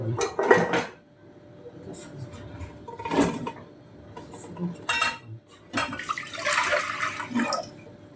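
Metal saucepans and utensils clatter and clank in bursts as things are shuffled about while searching for a saucepan in a kitchen, with some rattling and a brief watery swish, no talking.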